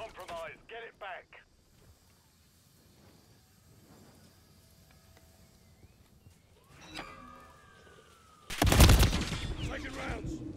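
Gunfire in the shooter game Modern Warfare 3, sparse distant shots and battlefield noise under brief radio-style voice callouts, ending in a loud dense burst of rapid fire near the end.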